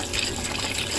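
Water from a tap gushes and splashes into a dishwashing liquid soap mixture being made from a DIY kit, a brief, close, steady pouring rush.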